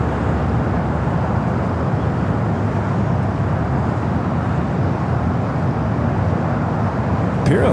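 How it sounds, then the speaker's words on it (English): A Boeing 787 Dreamliner bound for Hong Kong takes off from runway 24 right at LAX, giving a continuous broad roaring rush of jet engine noise that holds steady throughout. "we got that Dreamliner up next"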